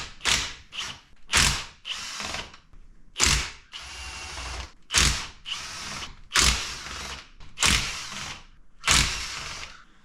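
Ratchet spinning out the eight 8mm camshaft bolts on an engine under timing-chain work, in about eight separate bursts of rapid close clicking, each loosening pass followed by a brief pause.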